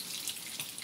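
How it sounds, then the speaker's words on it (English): Water running steadily from a faucet at a hand-washing setup in the Philippines, a close, continuous hissing splash with no talking. "this is the faucet to on the water"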